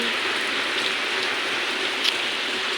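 A heavy island downpour drums constantly on surfaces, a close, unbroken wash of rainfall with one brief louder splash near the end and no one speaking.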